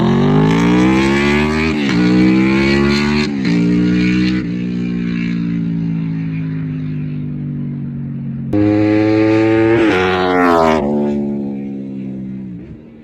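A 2007 Honda VFR 800 V4 motorcycle with VTEC revs up loudly and close by, its engine climbing through several pitch sweeps, easing back to a steady idle, then rising again in repeated blips.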